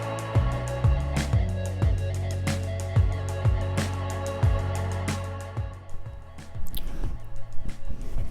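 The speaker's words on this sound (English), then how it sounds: "I'm just gonna go ahead and spray it with water." A spray bottle mists water onto a child's curly hair in a bathroom, giving a series of short, close hissing squirts at an uneven rhythm, with softer handling noise toward the end.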